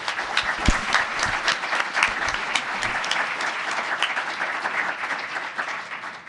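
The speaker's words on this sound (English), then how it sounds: "Can we give our panelists a round of applause?" An audience at an annual institute update applauds a panel, dense clapping filling the room with a few sharper individual claps standing out near the start.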